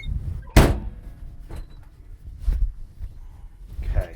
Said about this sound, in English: Swing that door back around.